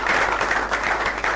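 A studio audience on a French-language talk show breaks into applause, a dense, loud wash of clapping that carries evenly through the whole short burst.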